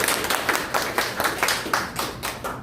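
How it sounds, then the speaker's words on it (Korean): Lecture-event audience clapping in thanks, with loud, rhythmic claps landing together in a quick, steady beat. "뜨거운 박수로 감사의 인사를 함께 드리겠습니다"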